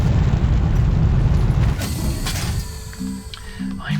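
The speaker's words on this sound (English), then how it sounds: "Here comes our rocket." A rocket arriving in Astroneer, a loud rumbling, whooshing roar that fades after the first couple of seconds into mechanical clanks and short tonal beeps, with no talk.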